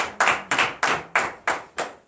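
A few worshippers at a morning prayer meeting in Comè, Benin clap for the Lord in a slow, even rhythm, seven sharp, close claps spaced about a third of a second apart with no talk.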